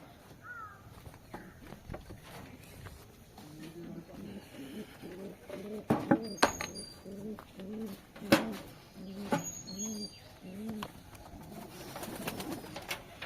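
Pet pigeons in a loft coo in a regular run of soft, throaty calls, with sharp clattering knocks and faint bird chirps around them.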